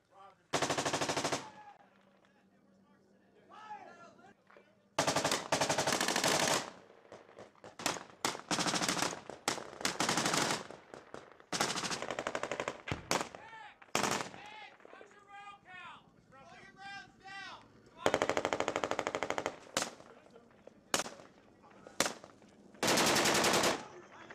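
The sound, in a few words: machine gun fire in combat in Sangin, Afghanistan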